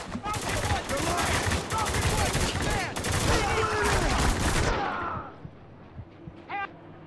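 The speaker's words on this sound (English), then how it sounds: "We're under fire!" Sustained automatic gunfire from the video game Spec Ops: The Line, a dense rattling fusillade of rapid shots up close that cuts off and fades into quieter ambience near the end.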